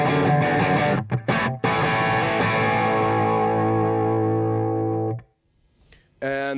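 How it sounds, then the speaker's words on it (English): An electric guitar runs through a Koch 63OD preamp into a stereo ATR, giving a distorted, chorus-tinged tone: a few quick chopped strums, then one long ringing chord that fades until it cuts off, followed by a short fresh attack. "the 63OD preamp running into the stereo"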